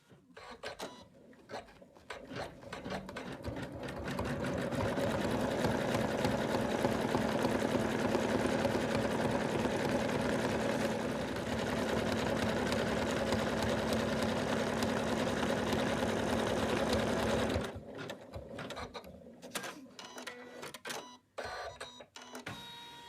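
An embroidery machine stitches placement lines on a hooped fabric piece, a steady mechanical whirring hum that builds and runs continuously for about thirteen seconds before cutting off, with quieter clicks and handling before and after.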